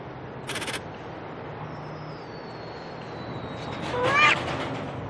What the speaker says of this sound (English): These cats are totally ruining the experiment.